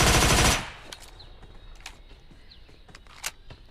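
PUBG Mobile gameplay gunfire: a loud, rapid automatic burst at the start, then scattered fainter, more distant shots over the following seconds, with no voices.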